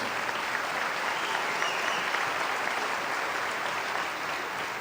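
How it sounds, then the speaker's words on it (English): A graduation audience at a high school ceremony gives a sustained round of applause, dense even clapping from a large crowd that fills the space with no pauses and no voices. "we'd like to give him a round of applause"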